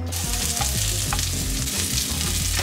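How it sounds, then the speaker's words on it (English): Lemongrass fries in a pan with a loud, steady, close sizzle and a busy crackle running throughout, with no talking. "We're gonna go ahead and start cooking. First, lemongrass."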